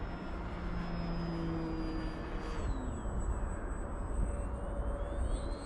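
A Ranger 1220mm RC plane flies a loop in strong wind, its motor a thin, steady whine whose pitch slides up and down over a rough, gusty wind rush, no voices heard.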